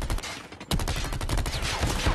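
Sustained burst of gunfire in the mobile shooter game Call of Duty Mobile, dense overlapping shots after a brief lull, loud and continuous across the whole stretch with no speech.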